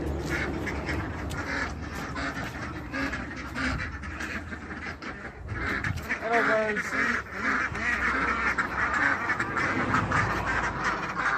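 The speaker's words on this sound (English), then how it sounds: "we have a big clatter of noisy ducks as well" A flock of Khaki Campbell ducks quacks loudly and continuously nearby, with a person briefly speaking over the noisy chorus.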